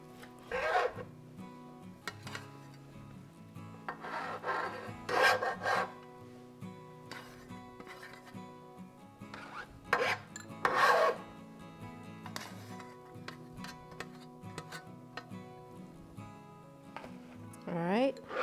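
A knife slices through raw bacon on a board in a home kitchen, giving repeated rasping, rubbing cuts in irregular bursts, close and moderately loud, with some talking mixed in.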